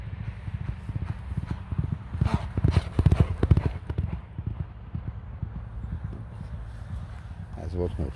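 A horse's hooves clip-clop in a steady, close rhythm on hard ground, louder in the middle stretch, while a person talks over them, and a brief snort or whinny-like sound comes near the end.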